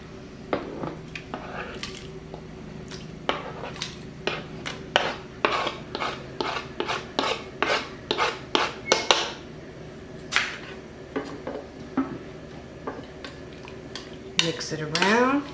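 Peeled potatoes dropped into a soup pot with baby carrots and quartered mushrooms: a series of close clunks, thuds and clattering knocks against the pot, irregular and fairly loud, with a final scraping rattle.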